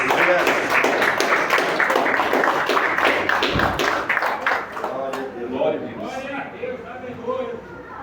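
Church congregation clapping to welcome a singer, a dense steady patter of many hands that thins out after about five seconds into quieter room sound.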